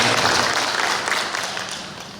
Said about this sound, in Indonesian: Tepuk tangan dulu rekan-rekan sekalian